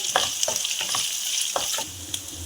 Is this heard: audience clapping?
no